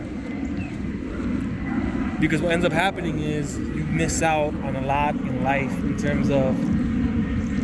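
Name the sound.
airplane flying overhead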